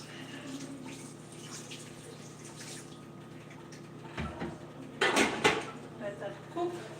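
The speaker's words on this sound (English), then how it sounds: "So I'm going to add in 1 more water" Water is poured into a pot of rice cooking on a home stove, a brief splashing gush that swells and fades after quieter kitchen clatter, with faint background noise throughout.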